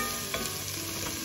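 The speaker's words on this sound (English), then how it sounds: "once I get a little saute going and I start to smell that garlic and onion really good" Garlic and onion sautéing in a pan give a steady, close sizzle with a faint stir or scrape partway through, with no voices.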